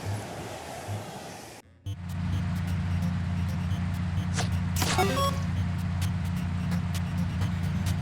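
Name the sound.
car driving in the video game Sam & Max: Beyond Time and Space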